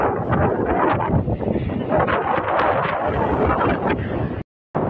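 Strong wind buffets the microphone in a continuous, rumbling roar that cuts out abruptly near the end.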